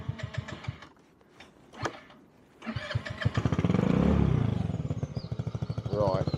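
A 2016 Peugeot Django 125cc scooter fitted with an aftermarket Scorpion exhaust starts up after a spoken intro, catching into a loud, steady putter that rises briefly in revs before settling into a rhythmic idle.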